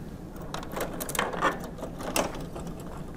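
Mechanical clicks and clacks from an Entrust Datacard CR805 card printer being unlocked and its access door opened, a few distinct latch and door knocks spread over a few seconds, fairly close and moderately loud.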